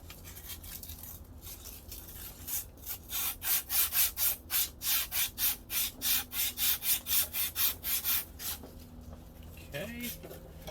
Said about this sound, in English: I'm using emery cloth is what I'm using, 240 grit, and use that to kind of get all that crud that's built up.